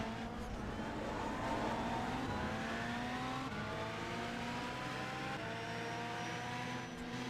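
Race car engines roar from onboard during Le Mans testing, high revs rising and falling through gear changes, loud and continuous with no talking.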